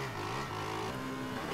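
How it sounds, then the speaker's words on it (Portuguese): A motorcycle engine in the video game GTA drones steadily at a low-mid pitch, revving slightly, with a synthetic, game-like quality and no voices. "vê essa moto dele de berra"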